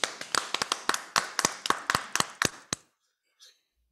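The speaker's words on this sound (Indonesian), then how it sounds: "Tepuk tangan dulu untuk DKI." A small group claps in a quick, even rhythm, about seventeen sharp, close claps over nearly three seconds, for a correct answer at a children's religious quiz competition. The clapping stops abruptly, followed by a brief faint tap.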